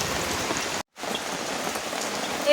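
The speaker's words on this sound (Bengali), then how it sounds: "বৃষ্টি পড়ছে আমি তো পুরো ভিজেই গেছি" Rain falls steadily outdoors in a dense, even hiss of drops on surfaces, cutting out for a split second before resuming just as heavily.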